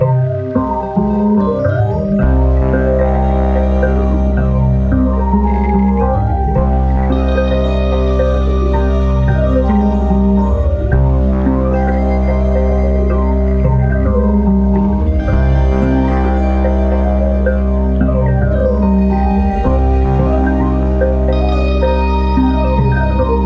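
Harp-like plucked tones ring out over a deep sustained synth drone, with echoing delay trails smearing notes into a dense, continuous wash; the harp's bass strings run through an Asheville delay pedal.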